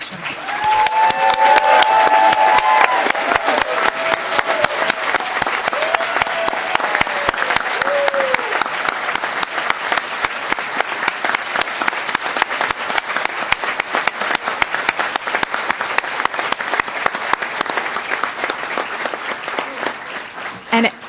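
An audience at a board of education meeting claps loudly and steadily for about twenty seconds, a dense sustained round of applause with a voice briefly heard near the start.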